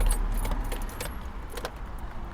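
Keys jangle and rattle close by while the ignition of a Ford Transit van with a dead battery is turned, a bright metallic clatter lasting a couple of seconds with no talk.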